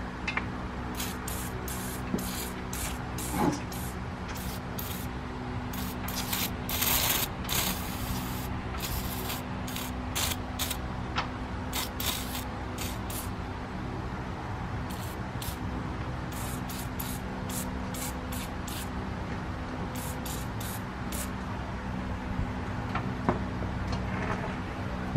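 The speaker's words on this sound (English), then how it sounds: "Get some real penetrating oil, and you just spray that on there." Penetrating oil sprayed from an aerosol can onto a corroded car battery terminal, heard as repeated short hissing bursts of varying length close by, with no talking.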